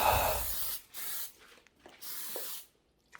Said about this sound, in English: All right, let's spray the whole place.